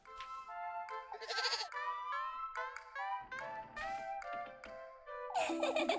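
A goat in a video game bleats in several wavering, nasal cries, near and clear, separated by short pauses, with a higher, excited bleat at the end.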